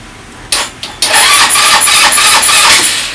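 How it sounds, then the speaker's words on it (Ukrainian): A Fada YB150T scooter engine that starts only intermittently is cranked with a few short bursts, then catches and runs at a loud, steady idle close by. "Деколи, якщо тако не хоче заводитися, раз заведеться, раз не заведеться"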